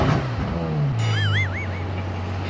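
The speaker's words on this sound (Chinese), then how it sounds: "法拉利 F 十二，法拉利最大颗的引擎 V 十二的咆哮声" Deep V12 roar from a Ferrari F12, its pitch sliding down and then holding steady, with a brief squealing whine midway before the engine settles into a quieter drone.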